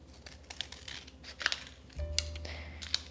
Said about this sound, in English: So I'll go ahead and open those with my scissors.